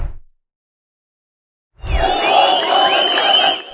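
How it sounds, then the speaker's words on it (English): Thousands of Palestinians celebrating released teenagers, a dense roaring crowd with high shouts and whistling cries rising after a brief silence, loud and sustained. "Carried through the crowds, celebrated by thousands of Palestinians."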